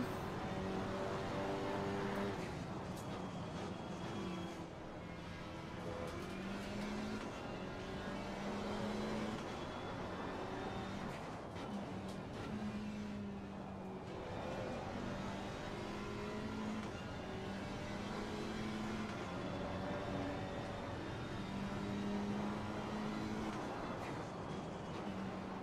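A GT4 race car engine in the Assetto Corsa Competizione sim at Zolder drones continuously, revving up and down through gear changes for the whole stretch at steady, fairly low volume.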